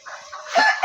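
A rooster crows once close by, a short loud rising call in a rural yard with fighting cocks.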